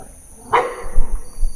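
A dog gives a single sharp bark inside an abandoned school, fairly close, followed by low rumbling handling noise.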